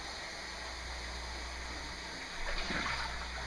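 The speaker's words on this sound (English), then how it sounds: "and letting it fill up with cold water." Cold tap water runs steadily into a kitchen sink, a constant broadband hiss that swells slightly louder toward the end as the basin fills.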